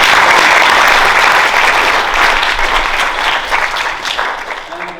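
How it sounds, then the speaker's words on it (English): Loud, dense applause from an audience at a walk presentation evening, sustained and close, tapering slightly toward the end. "But let's give Rainer another round of applause."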